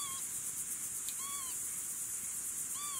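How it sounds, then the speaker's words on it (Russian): Birds give short whistled hooting calls a few times over a steady shrill chorus of night insects, moderately near and soft, flying over a tent on the Dnieper riverbank. "Слышите, птицы вот?"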